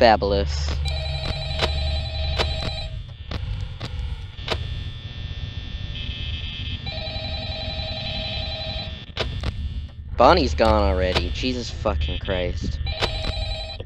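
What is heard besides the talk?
phone ringing in video game Five Nights at Freddy's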